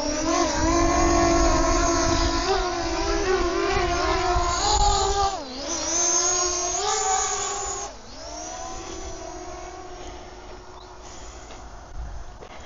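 An MJX Bugs 7 B7 drone in flight gives off a steady, loud, high-pitched electric motor whine with many overtones. The pitch dips and wavers as it manoeuvres, then the whine drops in level partway through and carries on more quietly.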